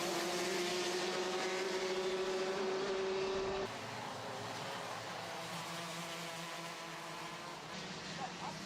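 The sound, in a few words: racing karts driving on track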